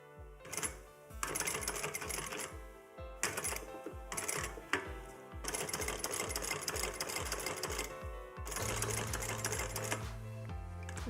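A sewing machine back stitches a rolled leather handle in close, steady bursts of rapid mechanical chatter. Short pauses fall between the runs.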